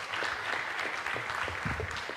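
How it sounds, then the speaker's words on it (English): An audience at a chapter event applauds the candidates for a ballot, a steady dense clapping from a moderate crowd that holds throughout at an even level, with no talk over it. "So can we give all the candidates a round of applause?"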